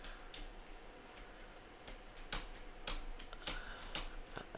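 A command is typed on a computer keyboard in Git Bash: scattered soft key clicks in irregular bursts, faint and close over a low steady hum, with no talking.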